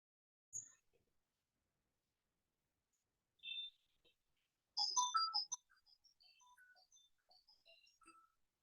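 A mobile phone rings with short, bright electronic tones and a melodic ringtone phrase, sounding alone against near silence.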